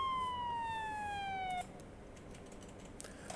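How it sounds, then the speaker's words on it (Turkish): Police car siren in the TruckersMP truck simulator game: one loud, clear electronic wail that slides slowly downward for about a second and a half, then cuts off abruptly, leaving faint background hiss and a few light clicks. "Sirenimize bakalım."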